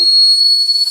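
A toy whistle blown in one steady, shrill, piercing tone that holds for just under a second, loud and close with no talking.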